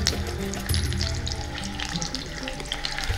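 Eggs frying in a pan for a raw mango egg curry, a steady close sizzle with a light crackle and the occasional clink of stirring running throughout, with no talk.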